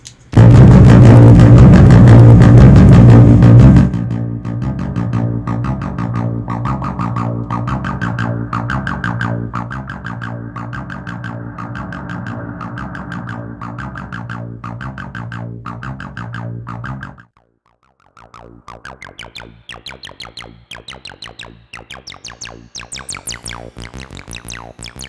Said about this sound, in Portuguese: Eu vou ligar aqui o efeito para vocês verem a diferença como fica com o reverb